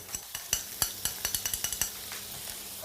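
Butter and leftover butter fat heating in a frying pan for a Jägerschnitzel sauce, with a soft sizzle under a run of sharp utensil clicks and scrapes against the pan, fairly close, ending in a louder clatter.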